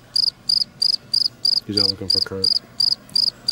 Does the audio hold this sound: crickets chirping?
yes